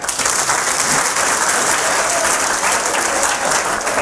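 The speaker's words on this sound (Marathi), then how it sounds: "तुम्ही स्वतःसाठी एक वेळा जोरदार टाळ्या वाजून घ्या" Loud, dense applause from an audience at a career guidance seminar, a steady wash of many hands clapping continuously with no break, close and filling the room.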